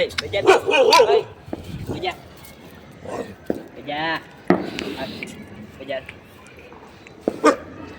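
A dog barks and yips several times amid loud, busy talk and chatter during Uttarayan kite flying, with some bursts close and sharp.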